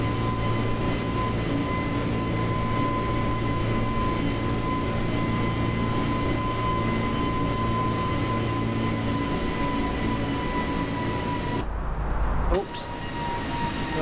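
Steady aircraft engine drone in Microsoft Flight Simulator, a continuous loud hum with tonal whine holding evenly before a brief shift near the end as the engine settles.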